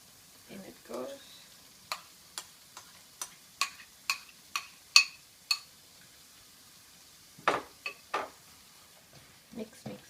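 Spinach puree being stirred into a corn curry in a pan, a spoon scraping in a quick series of light, sharp clicks and taps against the pan, with a soft sizzle underneath and brief pauses between strokes.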